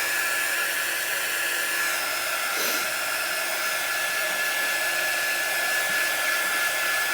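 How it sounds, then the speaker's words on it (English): A handheld craft drying tool blows hot air over wet chalk paste on a pumpkin-face project, a steady, loud, close whirring roar that runs unbroken with no talk. "We're going to get out the drying tool again. We're going to get this dry."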